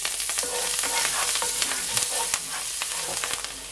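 Steak bites sizzle steadily in a hot frying pan, with scattered clicks and scrapes as the meat is tossed and stirred, loud and close with no talking.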